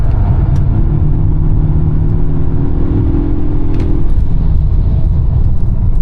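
Polestar 1 driven hard on a race track, a loud steady engine and road roar with a rising whine through a fast straight, heard from inside the car without talk.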